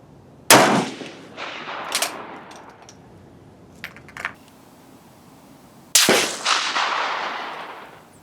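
Rifle shots at a shooting range test, two sharp loud cracks several seconds apart, each followed by a long fading echo, with faint metallic handling clicks between them.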